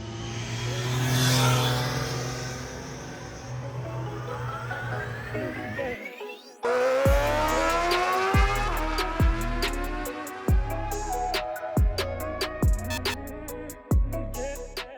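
A 2022 Triumph Tiger 660 motorcycle engine revs and accelerates up through the gears, rising whine with sharp shifts and pops, loud and close throughout.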